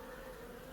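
Bees buzzing steadily inside a caravan beehive cavity behind a winch, a faint continuous drone with no voices.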